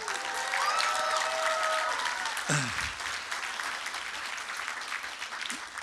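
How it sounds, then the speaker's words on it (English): Crowd applause at a fan convention Q&A, a broad steady roar of clapping that carries on throughout, with a voice heard over it early on. "I think that applause is really for her for putting up with it"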